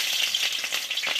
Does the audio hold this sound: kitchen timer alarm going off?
no